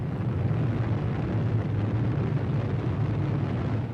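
A deep, sustained roar from the first atomic bomb explosion in the New Mexico desert in 1945 rumbles steadily and heavily without breaks, with no voices.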